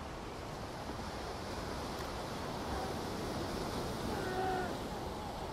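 Calm ocean waves wash steadily onto the shore in an unbroken, fairly faint surf roar, with a slight swell near the end and no other sounds.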